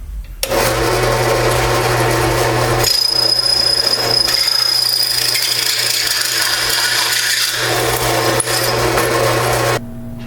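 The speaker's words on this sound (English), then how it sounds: "So here I have my piece of metal chucked up in the drill press." A loud, steady drill press whine machining a metal pulley runs almost continuously, with a low hum underneath and a shifting high-pitched grinding edge, stopping abruptly near the end.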